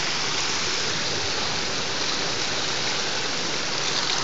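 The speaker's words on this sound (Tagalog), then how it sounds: "lakas tubig" A strong stream of mineral water pours out for washing, a steady, close rushing and splashing hiss that stays constant throughout with no talk over it.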